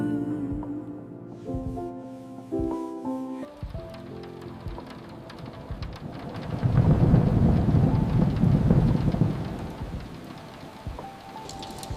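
Rain falls steadily while a deep roll of thunder swells loudly through the middle and fades, after a brief gentle melodic music passage at the start, with no voices.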